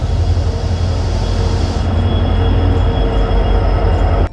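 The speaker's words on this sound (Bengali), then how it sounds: "বাড়ির জন্য ট্রেন ছেড়ে দিয়েছে" A train pulling away on a homeward journey, with loud, steady rumble and rhythmic wheel clatter close by and a high whine that cuts off partway through.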